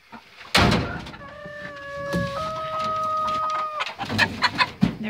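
Chickens at the nesting boxes in a coop, with sharp scuffs and knocks, a sustained wavering squawk-like call in the middle, then clattering bursts and scratches near the end.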